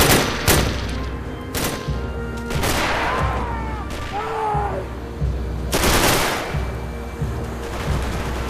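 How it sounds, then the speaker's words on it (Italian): Bursts of machine gun fire and gunshots in the World War II video game Red Orchestra, loud irregular volleys with sharp cracks and booming impacts, some distant, scattered over several seconds with faint voices underneath. "Richiesta supporto mitragliatrice!"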